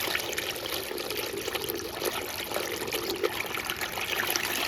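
A submerged brushless 12 V water circulation pump running in a bucket gives a steady, continuous watery trickle and hiss, even and unbroken, close by.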